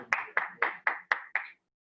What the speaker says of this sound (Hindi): प्रभु को ताली बजाकर महिमा करें